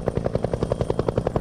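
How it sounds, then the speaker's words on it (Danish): Helicopter rotor thudding in a steady, rapid rhythm, fairly loud and continuous, as it flies in to the Faroese island of Dímun carrying a Faroese pony. "I dag kommer helikopteren ikke med post og købmandsvarer."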